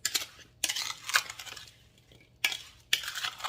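Berry cobbler batter being mixed in a bowl to pour over berries: several separate bouts of scraping and clinking, each a second or so long, close and moderately loud, with short quiet gaps between them.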